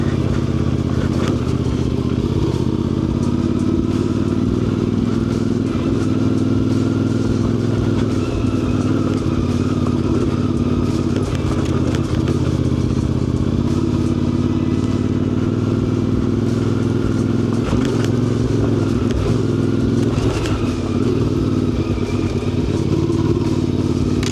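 A motorcycle engine drones steadily and close throughout, with occasional clatter and bumps as it rides along.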